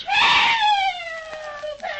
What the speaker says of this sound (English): She's screaming for help.